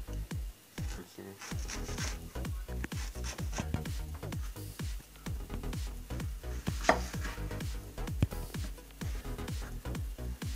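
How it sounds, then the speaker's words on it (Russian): A knife slices an onion into half rings on a cutting board, steady chops quick and rhythmic, close up, with brief pauses between runs of cuts. "Лук режем полукольцами."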